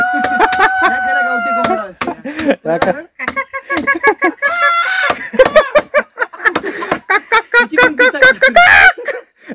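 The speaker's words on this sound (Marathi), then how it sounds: "गावठी कोंबडा" A country rooster clucks in short, rapid bursts close by, its calls mixed with sharp tapping clicks.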